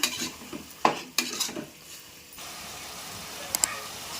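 Half a kilo of mutton for Tamil Nadu style biryani is stirred and mixed in a pan with masala, with scraping utensil clatters and bursts of sizzling up close, followed by a quieter steady fry with a couple of sharp metallic clicks.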